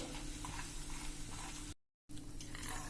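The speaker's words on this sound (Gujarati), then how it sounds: "તો મિત્રો હવે આ જ તેલમાં આપણે મગફળીના દાણા પણ તરી લેશું." Peanuts frying in oil in a metal slotted ladle over a slow flame, a steady soft sizzle with faint stirring, broken by a brief silent gap.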